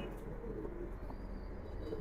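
A high-flyer pigeon coos softly nearby, a low murmuring purr that continues under faint room noise, quiet and brief with no one speaking.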